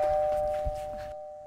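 A doorbell at a Vietnamese family home gives a sustained, ringing tone over faint background thuds, then cuts off into near silence.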